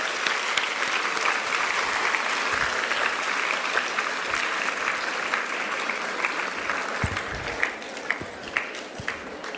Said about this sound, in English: I think they deserve a big round of applause from all of us.